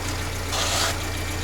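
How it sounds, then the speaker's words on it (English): A Peugeot 407 with the 2.0 EW10J4 petrol engine, an automatic under repair for oil leaks, idles steadily with a low, even hum and a brief rise in hiss partway through. "We started the engine."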